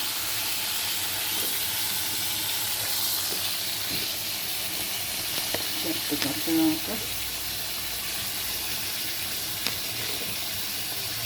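Green chillies and potatoes sizzle in a pan for a Bengali rui fish curry, giving a steady, close hiss with a few brief clinks partway through and no talk.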